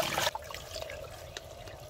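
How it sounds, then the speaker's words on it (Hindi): Water is poured into a wok fitted with a steamer for steaming chicken momos, a brief loud splash followed by a fainter trickling and dripping with no talking. "पानी डालेंगे कढ़ाही में।"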